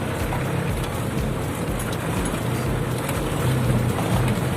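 A loaded cargo boat pushes through choppy sea on the way to Kadayunan, giving a steady, loud wash of engine drone, water and wind noise that holds without a break.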